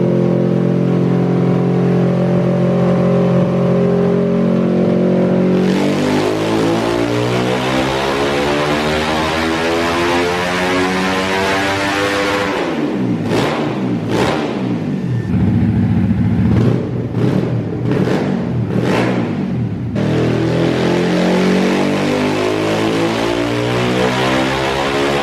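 Honda Grom motorcycle engine running on nitro fuel, revved hard and close with rising and falling pitch sweeps, a stretch of choppy stuttering revs near the top of its range, then climbing again.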